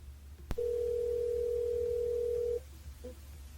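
A telephone dial tone sounds steadily for about two seconds while a radio host calls a listener back from the studio, preceded by a sharp click and followed by a brief faint beep over low background hum.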